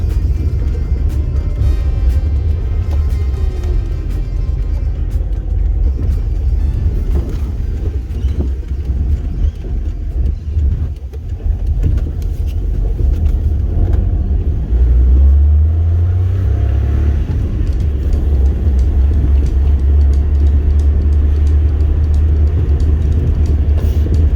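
A Daihatsu Cuore riding on air suspension drives along, with a steady low engine and road rumble throughout and a rising rev as it accelerates near the end.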